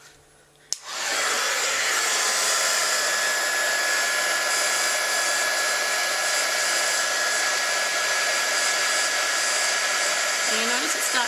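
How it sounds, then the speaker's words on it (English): A handheld heat tool blows hot air over embossing powder on a stamped card, switching on with a click and then roaring as a steady, fairly loud whir throughout with no talk. "I'm going to get a heat tool and I'm going to heat emboss that."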